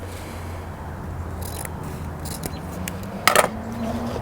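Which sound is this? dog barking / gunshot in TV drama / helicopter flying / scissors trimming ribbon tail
scissors trimming ribbon tail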